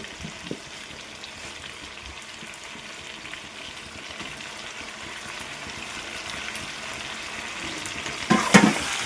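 Chicken masala sizzles steadily in an old, worn wok for a village-style chicken gravy, a close, even hiss that swells near the end into a louder burst of crackling and clatter as potatoes are added.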